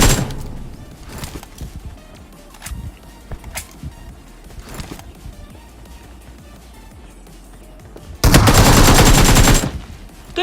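Automatic gunfire rips through a squad in a battle royale video game, with sparse shots and thuds early on before a loud, sustained burst of rapid fire near the end.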